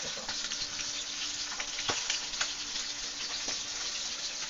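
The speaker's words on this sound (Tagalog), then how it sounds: "Prito lang ako ng isda." Fish fries in a pan with a steady, close sizzle and crackle, punctuated by a few sharper pops and spatters, no talk over it.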